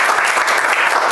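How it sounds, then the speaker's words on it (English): Dense, steady clapping from an audience, applauding a doctor after a patient interview; continuous and fairly loud throughout, with no voices. "Let's give him a round of applause."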